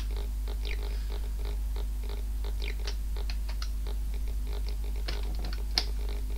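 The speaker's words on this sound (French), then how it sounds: "je joue au clavier sur le PC" Computer keyboard keys tapped in quick, irregular clicks while a PC plays Space Tunnel, a 1987 Softbook Scramble-style shoot-'em-up for the Thomson computer, over a steady low hum.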